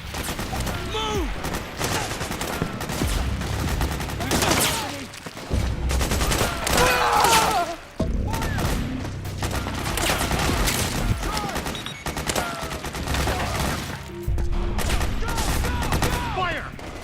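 Dense suppressing gunfire from Metal Gear Solid 4: Guns of the Patriots, loud, sustained bursts and rattling volleys running nearly nonstop, with shouted voices mixed into the battle.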